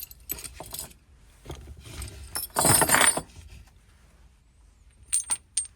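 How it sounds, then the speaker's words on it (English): An assortment of metal Allen keys handled in a tool haul, with bright metallic jangling and clinking in bursts, loudest in a clattering rush in the middle, then a few light clinks. "No toolbox is complete without an assortment of Allen keys."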